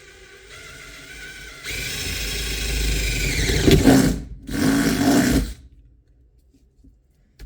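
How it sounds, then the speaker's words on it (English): A power drill whirs steadily for a few seconds, drilling a hole for a rivet nut, rising in pitch and load as it bites, pausing briefly, then spinning again before stopping; close and loud. "start off by drilling your hole"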